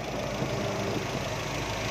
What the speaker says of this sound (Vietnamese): Máy nổ siêu êm luôn.